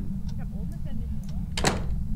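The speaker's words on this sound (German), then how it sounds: "Hören ihr das, wenn ich die Tür auf und zu mache?" A door opens and closes in the ghost-hunting video game Phasmophobia, heard as faint soft clicks followed by one brief, sharper knock near the end over a steady low hum.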